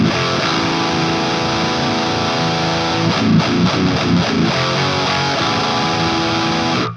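Heavy high-gain electric guitar played through an amp-sim plugin, an HM2-style chainsaw distortion blended with a low-end bottom shaker channel, loud sustained chords with a short rhythmic chugging burst in the middle, then ringing out.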